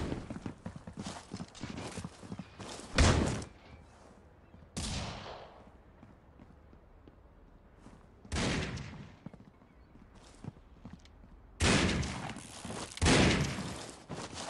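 Gunfire from a Critical Ops match comes in several loud, separate bursts scattered across the stretch, with quieter game noise and faint movement sounds filling the gaps between them.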